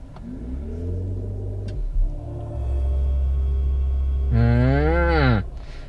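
The synthetic acceleration tone of a Mercedes-EQ EQS electric car hums steadily under held throttle, then rises into a sweeping, futuristic whine that swells and fades, loud and close.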